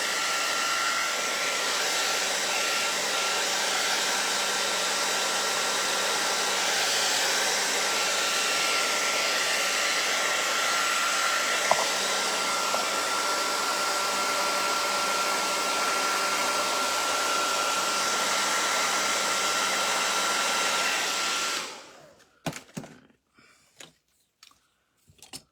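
A hot air dryer blows steadily on wet acrylic paint for about twenty seconds, a constant whirring hiss with a faint tonal whine, then switches off, leaving a few soft clicks and handling noises.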